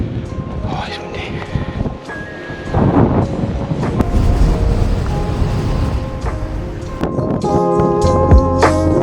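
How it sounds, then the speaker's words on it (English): Strong coastal wind at Hengistbury Head on the Dorset coast buffets the microphone with a loud, rumbling roar that swells and holds throughout, while a person talks over it. "Oh, it's windy."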